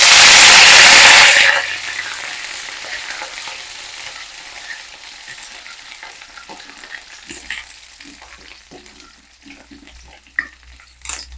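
A loud burst of sizzling as aromatic spices hit hot oil, quickly settling into a softer, steady frying crackle with occasional stirring clatters.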